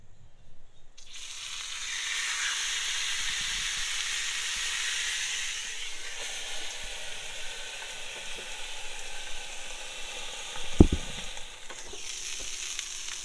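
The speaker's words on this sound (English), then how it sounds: "Now we're ready to pan sear this baby." A steak sears in a hot pan with a steady, broad sizzle that starts after a second of quiet and holds throughout, with a brief sharp clunk near the end.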